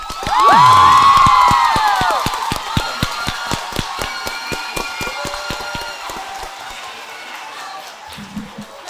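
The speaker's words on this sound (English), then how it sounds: "Once again, another applause for Mr. Sarton." Audience at a middle school orchestra and band concert bursts into loud cheering and whoops, then settles into scattered clapping that fades away.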